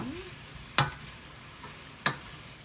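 Green beans cooking with tomato and onion in a pan are stirred, giving two sharp scraping strokes about a second apart over a low, quiet sizzle.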